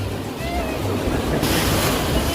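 Ocean surf breaks on Calangute beach in Goa, a loud, rushing wash of waves mixed with gusty wind buffeting the microphone, with faint voices in the background.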